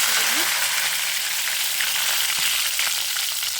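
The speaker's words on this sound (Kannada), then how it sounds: "ಕಾಯ್ತಿದ್ದಂಗೆ ಸಾಸಿವೆ ಹಾಕ್ತಿದ್ದೀನಿ ಕಡಲೆ ಬೇಳೆ ಹಾಕಿದ್ದೀನಿ ಪಟ್ಟ ಪಟ್ಟ ಪಟ್ಟ ಅಂತ" Mustard seeds and chana dal sizzle and spatter in hot oil, a dense, continuous crackling hiss close by with small pops scattered through it.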